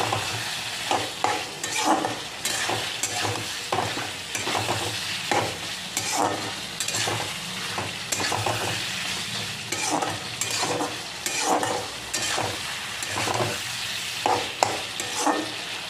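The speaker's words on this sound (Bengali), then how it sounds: "তো এইভাবে একসঙ্গে নাড়াচাড়া করে কষে যেতে হবে।" Chicken gizzards and potatoes being stir-fried together in a pan, with a steady sizzle and rhythmic scraping strokes of a spatula repeating every second or so, close and alone without talk.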